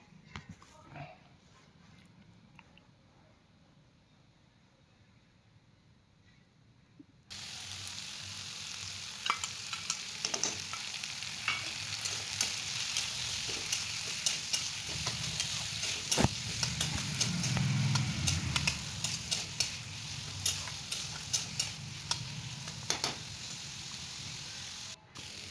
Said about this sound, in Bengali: ভালো করে ভেজে নিয়ে এবার এখানে দিয়ে দেবো বাটা মশলা।